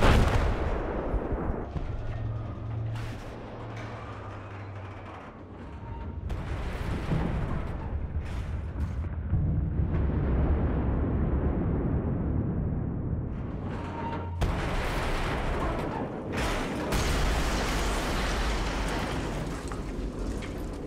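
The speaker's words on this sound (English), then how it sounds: "I'm going to detonate it here with some C4." C4 explosives detonate against a support cable in Battlefield 4, bringing down a radio telescope; heavy blasts, rumbling collapse and scattered gunfire roll through the battle, loud and dense with long crashing booms.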